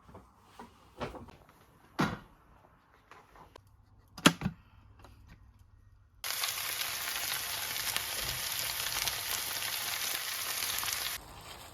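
Rice and vegetables heating in a pan on a home stove, a steady loud sizzle that starts abruptly partway through after a few quieter kitchen clatters and knocks, then runs continuously before cutting off near the end.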